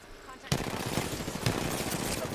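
Gunfire in an online shooter game, with rapid automatic bursts starting abruptly and continuing in quick repeated shots, loud and near, while a player's voice talks faintly underneath.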